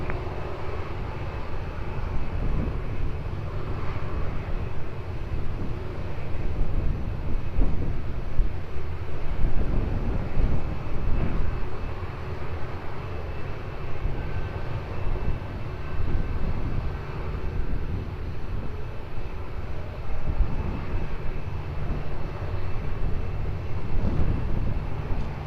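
An airliner takes off from runway 20 at Lisbon Airport, heard as a steady, loud broadband jet roar with wind buffeting the microphone that holds for the whole stretch and does not fade.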